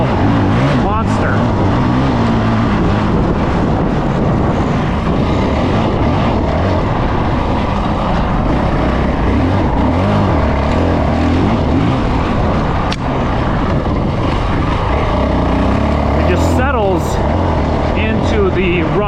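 A Honda CRF450L dirt bike rides tight singletrack, its engine roaring continuously and loudly up close with wind buffeting, revs rising and falling through the trail, and a rider talking over it.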